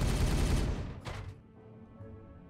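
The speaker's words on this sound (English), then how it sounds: "Firing on target!" Gunfire in Warhammer 40,000 Regicide: a loud, dense burst of rapid shots and blasts rings out for about a second, then a sharp final crack and a fading rumble as the volley dies away.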